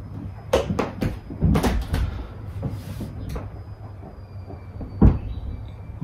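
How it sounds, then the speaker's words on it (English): Footsteps of kids walking on a house roof, irregular thumps and creaks with a few louder knocks, heard from indoors below, fairly close and without talk. "My kids are walking around on the roof."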